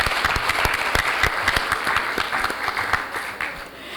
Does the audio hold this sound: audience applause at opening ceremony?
yes